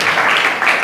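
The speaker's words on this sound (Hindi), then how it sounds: "ताली बजाओ उस बेटे के नाम पर" Children at a school event give a brief, loud burst of applause, a dense wash of many clapping hands lasting under a second.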